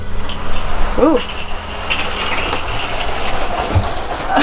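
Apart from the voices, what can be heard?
caravan water pump switched on with taps running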